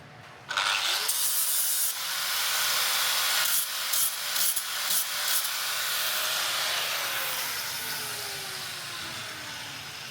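Sanding the top edge of homemade steel rock sliders for an off-road vehicle gives a continuous, fairly loud abrasive hiss and rasp that holds steady for several seconds, with a few brief changes in pressure partway through.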